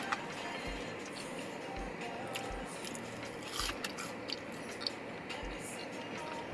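McDonald's french fries bitten and chewed close up, a few soft crunchy bites and moist chewing sounds spread across several seconds over a low background hum.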